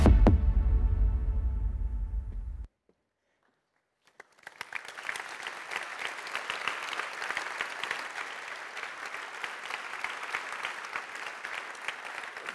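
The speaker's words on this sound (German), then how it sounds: "der Applaus gilt Ihnen" A sustained voice or tone ends abruptly, a short silence follows, then a large audience at a research association's annual conference breaks into steady, even applause that continues to the end.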